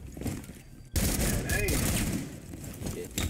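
Rapid bursts of automatic gunfire in the video game Rainbow Six Siege crackle loudly and continuously, with players talking over the shooting.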